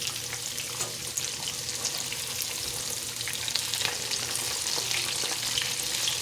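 Double-battered chicken tenders fry in hot grease with a steady, dense crackling sizzle that holds close and even throughout, with no voices.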